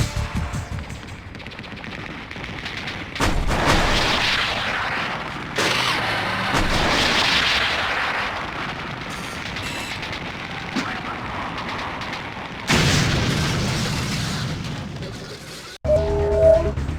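Explosions and gunfire erupt in the Command & Conquer: Tiberian Sun campaign as an enemy base is destroyed, loud rumbling blasts in overlapping bursts, with a few sudden louder booms and a brief quiet gap near the end.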